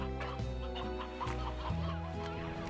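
Chickens in the video game Slime Rancher cluck steadily across the short stretch, their calls fairly loud over a layered game background with no talking.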